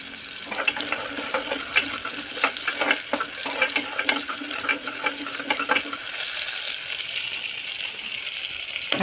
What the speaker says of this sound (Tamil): வெங்காயம் நல்லா வணங்க விடுங்க.